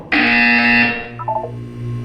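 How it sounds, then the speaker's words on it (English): A loud electronic buzzer sounds in the Portal 2 video game, a harsh tonal blare lasting nearly a second before it cuts off and fades, followed by a few softer beeping tones and a low hum. "You will hear a buzzer."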